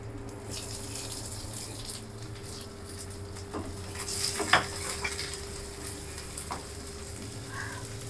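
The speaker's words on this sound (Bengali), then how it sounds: "পেঁয়াজগুলো মনে হচ্ছে ভাজা হয়ে এসেছে প্রায়" Onions fry in oil with mustard seeds, dried chilli, curry leaves and garlic in a pan, a steady sizzle broken by several scraping stirs and light utensil clinks, with no talking.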